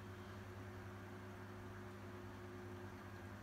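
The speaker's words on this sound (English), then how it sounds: "Speed stir really makes this a lot easier." Magnetic speed stirrer spinning while mixing a magnesium aquarium test kit sample: a steady low electrical hum with faint motor whine, constant and unchanging throughout, quiet and close.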